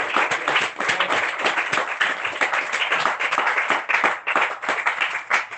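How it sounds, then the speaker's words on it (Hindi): Loud, dense clapping from a congregation fills the space without a break, steady and close, honouring a couple at a church gathering. "सनी दिया इस जोड़े के लिए जोरदार तालियां।"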